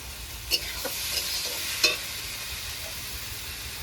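Fried potato, onion and tomato are stirred with coriander leaves in a pan, a soft background sizzle broken by a few sharp utensil scrapes and taps.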